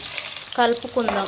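Sliced onion sizzles steadily in hot oil with tempering spices in a kadai, a close, continuous frying hiss, with a short stretch of talking over it partway through.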